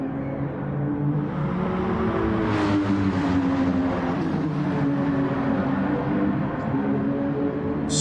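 Porsche race car engine in a racing game championship at Suzuka, a steady loud droning roar held at high revs with a slight rising pitch throughout.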